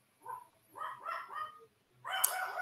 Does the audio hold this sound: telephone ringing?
no